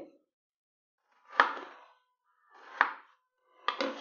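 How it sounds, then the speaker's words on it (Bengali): A knife chops an eggplant into small pieces on a board in a home kitchen, three separate dull thunks spaced about a second apart, close and alone in near silence. "সবটা বেগুন কেটে নিচ্ছি"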